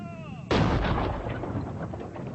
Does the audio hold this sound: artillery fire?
yes